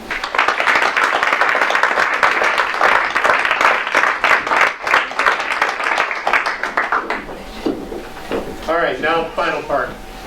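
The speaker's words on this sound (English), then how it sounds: "Round of applause for everybody." A room full of people applauds at an Eagle Scout ceremony with dense, steady clapping for several seconds, then it tapers off and a voice begins speaking nearby.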